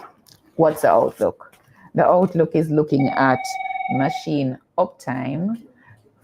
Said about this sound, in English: that's a phone in the background ringing